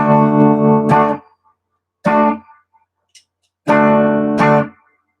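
Three bursts of sustained electric guitar chords, each ringing out with a short reverberant tail before dropping to silence.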